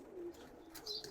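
A pigeon in a home loft gives a brief, faint coo with a couple of soft chirps, heard alone over quiet room noise.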